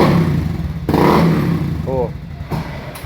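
Honda Beat FI scooter engine revving during an acceleration test, a close, steady mid-pitched drone that swells and fades with the throttle while someone talks over it.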